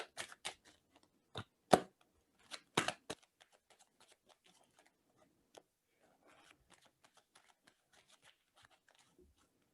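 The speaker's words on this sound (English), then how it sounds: "I'm going to start shuffling now." Tarot cards being shuffled at a live reading, soft scattered riffles and taps heard up close and quietly, with clusters of crisp card snaps early on thinning to faint occasional flicks.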